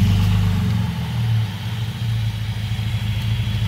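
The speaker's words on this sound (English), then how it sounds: "we cut out the mufflers the other day, like in the back. Hear that? Hear that? That rumble." Deep, steady engine rumble from a junkyard turbo LS-swapped car with its mufflers cut out, a loud low idle with slight pulsing, close by and without talk.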